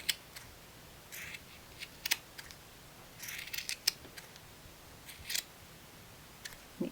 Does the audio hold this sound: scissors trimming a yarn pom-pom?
yes